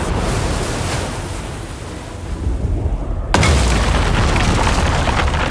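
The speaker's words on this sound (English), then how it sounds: "Here's something blowing up in this game." A video game explosion from Star Fox, a loud full-band boom that bursts in suddenly mid-clip and holds as a dense roar after a quieter, rumbling lead-in.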